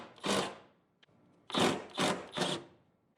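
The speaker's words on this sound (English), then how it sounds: "let's go ahead and take off the top 13mm bolts" Top 13mm bolts being loosened on a Porsche 911 engine mount with a hand tool, four short rasping bursts close by, one early and then three in quick succession, separated by near silence.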